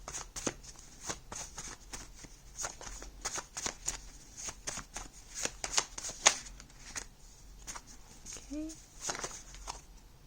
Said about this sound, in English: I'm going to put them back and shuffle one more time.